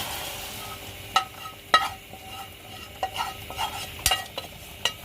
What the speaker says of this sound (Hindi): तो ये देखिए अब कितना ज़बरदस्त यहाँ पे तड़का लगेगा।